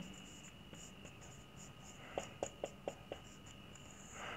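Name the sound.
writing on a board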